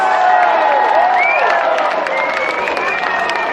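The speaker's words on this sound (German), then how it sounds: "Und dann ist erst einmal dein großer Applaus!" Loud crowd applause and cheering from a live stage audience at the Deutz Feiert festival, dense and continuous throughout, with voices shouting in the crowd.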